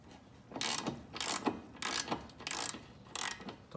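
A ratchet wrench loosening the castle nut on a 1998-2003 Acura TL/CL front upper control arm, giving several bursts of rapid close clicking separated by brief pauses.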